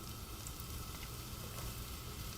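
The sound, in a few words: chillies and onion sizzling in hot oil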